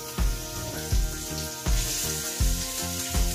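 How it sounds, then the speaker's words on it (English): Pork ribs frying in a little olive oil in a pan, a steady close sizzle with a strong, regular beat of low thumps roughly every three-quarters of a second running underneath. "So I'm going to put my pork in the pan,"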